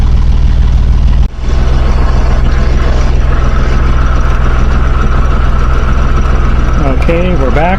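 A Yanmar 3GM30F three-cylinder marine diesel from a sailboat runs steadily on land, a close, continuous low throb with constant loudness, a brief dip near the start, and faint extra sounds toward the end.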